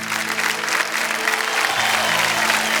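A studio audience at a quiz show claps loudly in honour of teachers on Teachers Day, a thick, continuous burst of applause that holds at full strength for the whole stretch.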